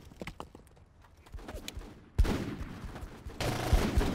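Gunfire in the military game Full Spectrum Warrior: Ten Hammers, with scattered shots at first, then loud sustained bursts of automatic fire that swell and continue near the end.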